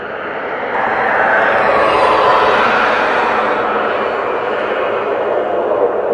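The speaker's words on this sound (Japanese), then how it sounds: "またしても戦闘機の音がするんだが" A fighter jet flies overhead near Katayamazu hot spring town, a loud, steady, broad roar that swells after the first second and holds without a break.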